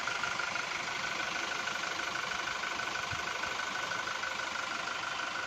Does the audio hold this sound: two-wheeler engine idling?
yes